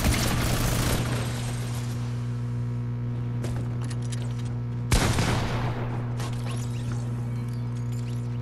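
Rapid minigun fire in the video game Fortnite, a loud dense burst at the start followed by a sustained rattling stream with a second sharp burst midway, steady mechanical hum underneath.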